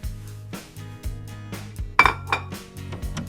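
A plate clinks and scrapes against dishes in a kitchen, with repeated short knocks and rattles at a steady pace, close and moderately loud, and no talking.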